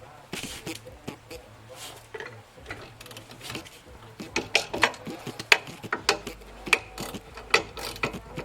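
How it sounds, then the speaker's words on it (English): Ratchet wrench clicking repeatedly as a bolt is torqued on the front suspension of a 2005 V6 Mustang, bursts of sharp pawl ticks close up, growing louder toward the end, with faint background noise. "we'll go ahead and torque this bolt to 76 foot-pounds"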